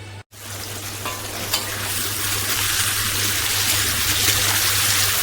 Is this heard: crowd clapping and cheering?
no